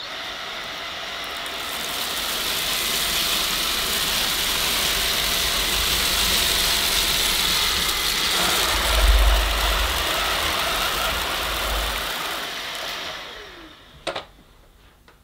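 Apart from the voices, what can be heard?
Bosch Unlimited Serie 6 cordless vacuum cleaning floor, regular setting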